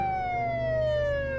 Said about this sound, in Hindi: 11 एम्बुलेंसेस वहां आई